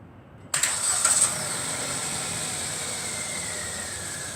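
A 2015 Kia Ray engine with a dead battery cranks and catches abruptly after a jump start, revving briefly before settling into a steady idle with a faint high whine.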